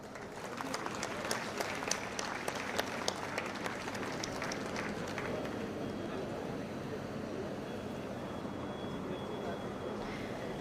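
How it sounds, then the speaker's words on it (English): A crowd claps for the Chief Minister of Maharashtra at the inaugural ceremony of India's first Advocate Academy in Taloja, Navi Mumbai. The applause is steady and fairly distant, strongest in the first half and then thinning into a broad hall murmur. "Can we have a round of applause"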